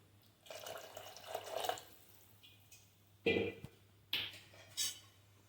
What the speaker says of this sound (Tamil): இன்னும் கொஞ்சம் தண்ணி விட்டுக்கலாங்க.